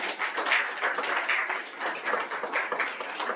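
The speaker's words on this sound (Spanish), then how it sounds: "Un aplauso para usted." Dense, steady applause from an audience greeting a speaker at a fair, close and continuous with slight swells, and no voices over it.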